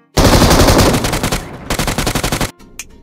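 Rapid automatic gunfire from the video game BGMI rings out loud and close in one long burst, then a shorter rattling volley of distinct shots before it cuts off.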